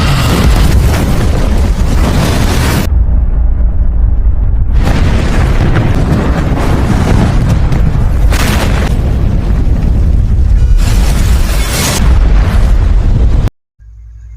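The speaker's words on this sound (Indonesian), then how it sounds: "sehingga mengakibatkan ledakan dahsyat yang menghancurkan 1/4 dari kota Guanseng" A huge chemical factory explosion in the disaster film Flash Over: loud, roaring booms and a sustained rumbling blast with repeated bursts, broken by brief lulls, then cut off abruptly near the end.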